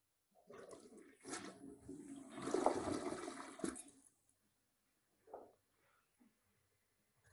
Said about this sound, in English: This is what releases the water to flush the toilet.